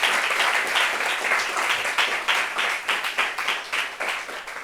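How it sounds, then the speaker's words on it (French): Audience applause at a gathering, dense close clapping throughout that loosens into distinct individual claps toward the end. "On peut applaudir."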